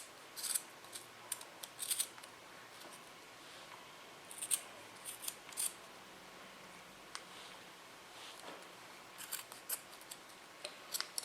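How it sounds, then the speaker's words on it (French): Scissors snip through the corners of a velvet belt for a Moroccan caftan, quiet crisp cuts coming in irregular bursts over a faint background hiss. "Avant de commencer, j'ai besoin de couper les angles ici également."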